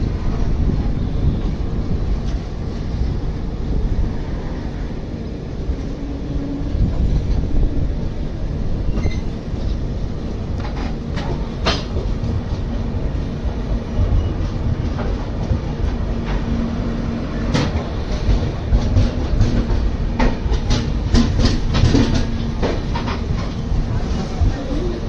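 A Konkan Railway train rumbles at Ratnagiri railway station, a loud continuous low roar with scattered metallic clicks and clatter of wheels over track.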